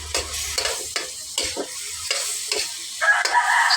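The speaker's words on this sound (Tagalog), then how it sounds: "Stir fry lang tayo." Pork stir-fried in a pan for a budget braised pork dish, with loud sizzling and repeated scraping stirs in an irregular rhythm, close up with no talk.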